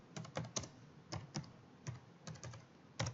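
Fingers type on a computer keyboard in a jewelry design program, producing a run of light, irregular key clicks with a few pauses, close and clear with no speech.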